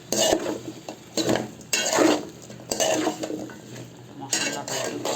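Winter vegetables (potato, papaya, cauliflower, drumstick, beans) being stir-fried with spices in a pot for khichuri, with bursts of spoon scraping and stirring against the pot and a soft sizzle between strokes.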